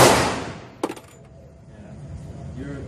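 A Glock 21L pistol fires at a shooting range: a sharp, loud report opens the moment and rings off, followed by a second brief, close crack just under a second later, with only faint background noise afterward.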